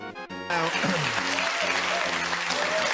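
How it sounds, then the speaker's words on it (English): After a brief musical or spoken intro, an audience breaks into loud sustained clapping, dense and steady, with a voice talking faintly underneath. "an audience of other old people that are like clapping for this"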